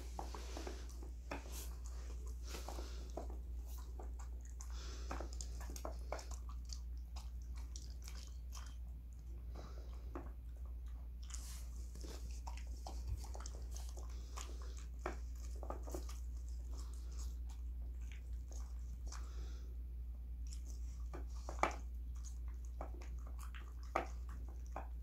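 Two schnauzers, one an elderly dog, chew and bite on a late-night snack, with scattered wet crunching and mouthing sounds over a steady low hum and no talking.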